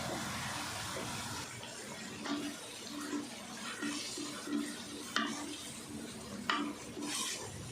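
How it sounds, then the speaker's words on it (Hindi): Minced meat keema frying in a pan alongside karela, with a low, steady sizzle under repeated soft stirring scrapes and a few light clinks of the utensil. "कीमा हमारा अच्छे से फ्राई हो गया"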